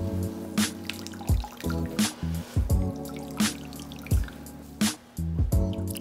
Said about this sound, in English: So now I'm starting to squeeze and it's getting a lot more challenging to get that water out